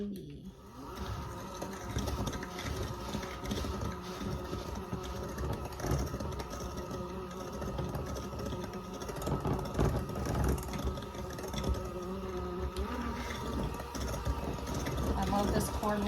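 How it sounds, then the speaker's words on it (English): A cordless kitchen mixer whirring continuously while making chocolate crinkle cookies, a steady motor hum with faint clatter in the bowl and a voice talking now and then. "I love this cordless mixer"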